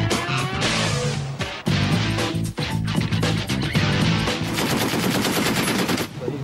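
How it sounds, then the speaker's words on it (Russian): Sustained machine-gun bursts tear into a brick wall during a Chechnya raid on illegal oil refineries, loud rapid firing with brief pauses, close and continuous over several seconds. "Очередь из пулемета в буквальном смысле не оставляет камня на камне от кирпичной стены."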